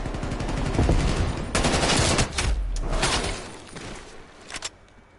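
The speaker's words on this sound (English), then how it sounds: "Even the sound effects of the gunfire is really cool." Rapid bursts of automatic gunfire from Call of Duty Black Ops Cold War, loud and close, with a few sharper single shots and brief pauses, fading near the end.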